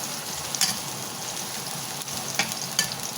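Garlic sizzles and crackles steadily in a hot pan, a close, continuous frying hiss with a few louder pops and stirring scrapes, no voices.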